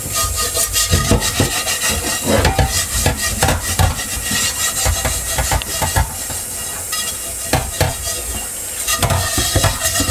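Baked-on cheese and Brussels sprouts being scrubbed off a once-seasoned pan: loud, close, continuous rhythmic scraping and rubbing strokes that carry on steadily throughout, with no talk.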